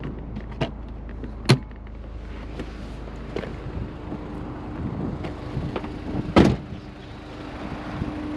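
The hood and trunk of a 2005 Honda S2000 are popped open, giving a few sharp latch clunks and thumps spaced over several seconds against quiet outdoor background.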